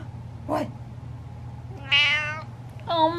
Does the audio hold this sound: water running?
no